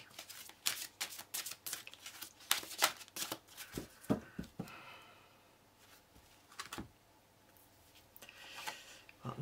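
Tarot cards shuffled by hand in a tarot reading, giving a quick run of crisp riffling and slapping bursts that sound close and clear, with short pauses between runs and no talk over them.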